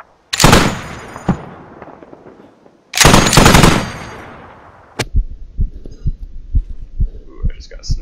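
Gunfire in a multiplayer shooter game with enemy spawn points, two loud close bursts of rapid automatic fire a few seconds apart, then a sharp single shot followed by a quieter pulsing thud, like the player being sniped.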